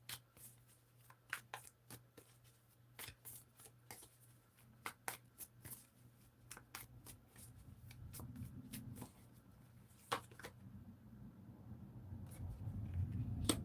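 A deck of cards is shuffled by hand at close range in a quiet room, with quick crisp riffles and snaps in uneven bursts, growing busier with soft handling noise toward the end.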